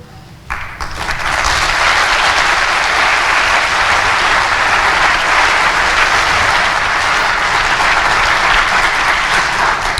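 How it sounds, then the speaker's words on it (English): Sustained, loud applause from a commencement ceremony audience honoring the academic staff, starting abruptly and holding steady as a dense wash of clapping, with no speech on top. "The academic staff deserves a well-earned break and a round of applause."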